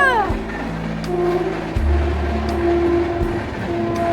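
A train passing close by, its deep engine rumble and rolling wheel noise sustained and loud, with a tonal horn-like drone rising through the middle; no talk over it.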